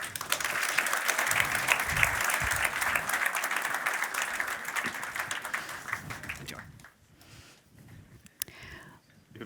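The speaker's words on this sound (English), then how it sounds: "a warm applause for Johan Hintze and Arvid Nordquist" A conference audience breaks into sustained applause as two panelists are welcomed onstage at a coffee-industry event, dense clapping filling the first six seconds before dropping to quieter crowd murmur and scattered claps.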